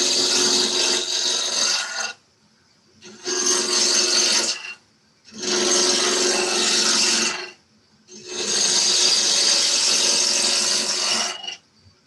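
Wood lathe gouge taking roughly eighth-inch cuts while rounding a wood blank for a wig stand, four loud rasping bursts of two to three seconds each separated by short silences, close up with no talk.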